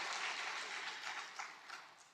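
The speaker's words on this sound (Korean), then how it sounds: "길을 만드신 하나님께 영광의 박수." A church congregation applauding during a Sunday worship service, a soft, distant spread of clapping that stays steady and faint for the whole stretch.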